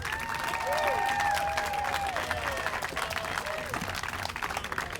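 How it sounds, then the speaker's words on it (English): Sustained applause from a crowd at a rally at the state capitol for speakers, a dense wash of clapping with scattered voices and a few whoops over the top. "please give a round of applause to all of our speakers"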